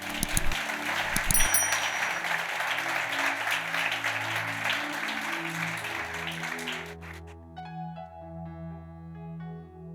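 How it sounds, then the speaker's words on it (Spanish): Loud, steady applause from a church congregation for about seven seconds, then it fades out as soft music carries on alone. "Denle un aplauso."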